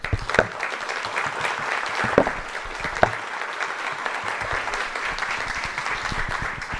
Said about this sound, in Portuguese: que ele receba aqui o nosso aplauso e as nossas homenagens.